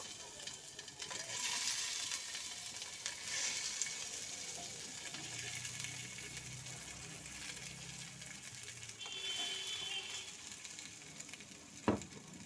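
Hilsa fish pieces fry in mustard oil, giving a soft, continuous sizzle with gentle bubbling that stays fairly quiet throughout, broken by a single sharp knock near the end.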